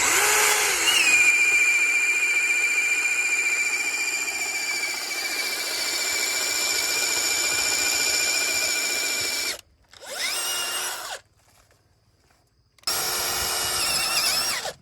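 A 2 9/16-inch Hercules bit from Harbor Freight bores into deck wood under a power drill, a loud steady whine for about ten seconds, then a short second burst and a final run after a brief pause.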